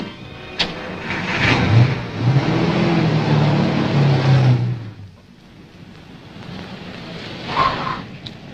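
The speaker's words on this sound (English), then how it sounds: "start the car" A car engine turns over and catches, then revs through a rising, rumbling burst lasting several seconds before dropping to a low idle. A second, briefer surge follows near the end.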